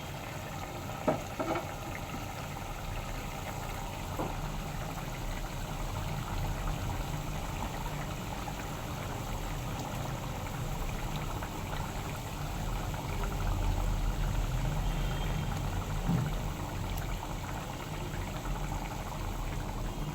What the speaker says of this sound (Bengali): ঝোলটা একটু ফুটতে দিব